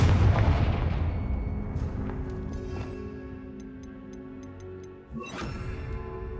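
A Confringo fire-spell blast explodes in a Hogwarts video game: a loud boom with a decaying rumble, followed by light ticking chimes and a second sharp crack a few seconds later.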